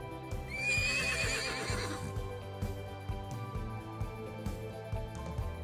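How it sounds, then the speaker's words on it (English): A horse neighs loudly for about two seconds, a rising then wavering whinny, followed by quieter hoof clops over a steady rhythmic backing. "Horse."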